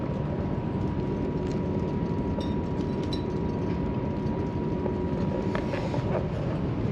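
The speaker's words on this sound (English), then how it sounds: "We are riding this train from Bari to Florence, and that's about a 6-hour ride." Passenger train riding from Bari to Florence, heard from inside the carriage as a steady broadband rumble with faint rail clicks and a constant hum throughout, no talking.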